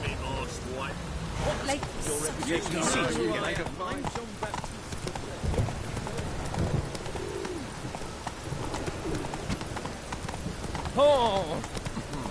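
Roach, a horse in The Witcher III: Blood and Wine, clip-clops steadily through most of the stretch, the hoofbeats mixed with bird coos and game ambience, with a brief brighter call near the end.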